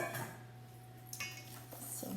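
A utensil stirs zucchini bread batter, flour mixture with cinnamon, baking powder and baking soda, in a bowl, giving soft scraping and a few light clinks against the side, close and quiet with no talk.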